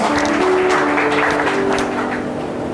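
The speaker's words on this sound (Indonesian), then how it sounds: "Berikan tepuk tangan untuk Tuhan kita" A congregation at a church service claps together in a dense, steady burst of applause, with faint sustained tones beneath, fading slightly toward the end.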